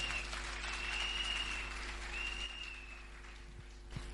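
Congregation applauding and cheering, a sustained wash of clapping with a high excited voice or whistle over it, fading gradually toward the end.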